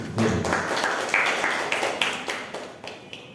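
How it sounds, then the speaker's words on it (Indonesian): Seminar audience clapping for a presenter in an indoor hall, a short burst of dense applause that starts loud and tapers away over a few seconds. "Tepuk tangan sekali lagi buat Mbak."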